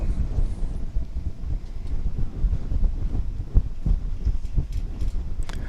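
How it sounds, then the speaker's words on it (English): Strong wind buffets the microphone at an airport, a steady low rumbling roar with gusty swells that runs unbroken throughout. "as you can hear in the background, it's very windy today."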